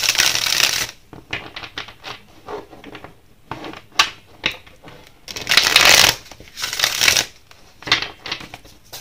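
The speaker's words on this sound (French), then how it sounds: "on va battre un peu les cartes" Tarot cards shuffled by hand in bursts of crisp, papery riffles and flutters, close and fairly loud, separated by brief pauses, with no talk over them.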